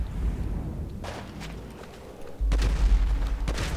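Gunfire in the video game Grand Theft Auto V: a few sharp shots around the one-second mark, then a louder burst of rapid, close bangs over a heavy low rumble in the last second and a half.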